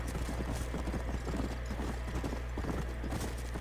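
Rapid rhythmic hoofbeats of a galloping horse in Red Dead Redemption, steady and continuous, with a low rumble underneath.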